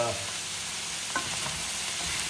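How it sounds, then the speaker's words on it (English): Chicken and king prawn chow mein noodles fry in a pan, giving a steady, loud hiss of sizzling with a faint stirring scrape partway through. "As soon as your noodles start to char, just turn them down until low heat"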